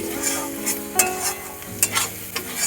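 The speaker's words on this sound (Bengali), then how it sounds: "মশলা ভালো করে কষানো হয়ে গেছে" A spice paste for a Bengali pabda fish jhal sizzles steadily in a pan as it is stir-fried, with a constant close hiss broken by a few spoon scrapes and clacks.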